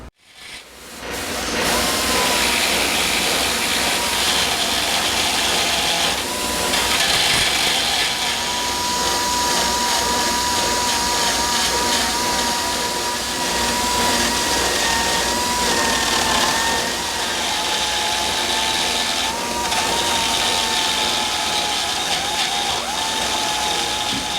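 Tack Life variable speed carving tool grinding metal, a continuous harsh whirring grind that keeps going with small shifts in pitch and load, loud and close with no voices.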